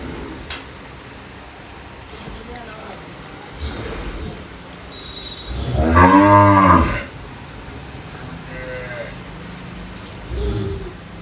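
A Sahiwal cow lets out one long, loud moo during milking in a farm shed, with brief murmurs of people talking before and after.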